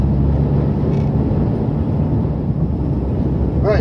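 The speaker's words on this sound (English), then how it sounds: "as you can hear, the wind. This is a rather windy day" Steady loud broadband wind roar and road rumble inside a moving 2012 Vauxhall Insignia SRi 2.0 CDTI on a windy day, constant throughout with no speech.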